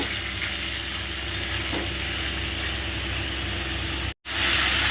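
Beans fry in a pan with sugar, a loud continuous sizzle close up with faint stirring scrapes; it cuts out briefly near the end, then resumes.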